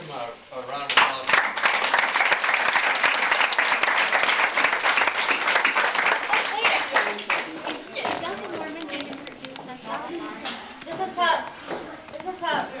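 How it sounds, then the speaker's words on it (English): A reunion crowd gives a sustained round of applause, dense clapping for several seconds, with chatter and voices mixed in as it tapers. "Let's give them a round of applause."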